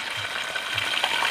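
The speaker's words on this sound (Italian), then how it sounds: "adesso guardate come frigge" Artichokes frying in very hot oil, a dense continuous sizzle and crackle with faint bubbling pops, close up and steady throughout without any voices.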